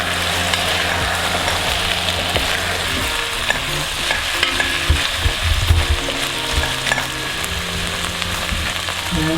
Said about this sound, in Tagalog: Haluin natin para yung mga nasa ibabaw ng inilalim.